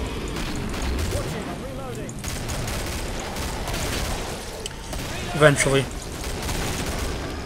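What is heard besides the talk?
gunfire from the video game Killing Floor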